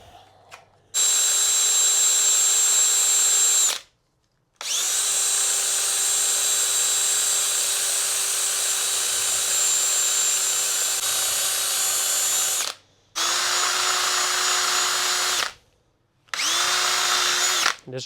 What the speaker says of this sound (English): This drill is getting hot